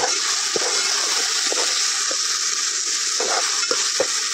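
Steady, loud sizzling of spices and coriander frying in hot oil for a Malvani clam dish, with occasional scraping and stirring sounds from a pan, and no talking.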